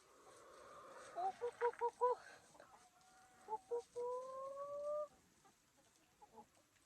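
Laying hens cluck and call at feeding time, a burst of short repeated clucks followed by a few longer drawn-out squawks, fairly close over a quiet farmyard background.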